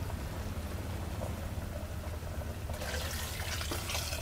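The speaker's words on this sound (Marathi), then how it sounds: "आता आपण हे वरती पाणी ठेवलं होतं ना ताटामध्ये ते चिकनमध्ये घालूया." Warm water pours into a pot of cooking village-style chicken curry, a steady close rushing splash that turns brighter and more gushing in the last second and a half, with no talking.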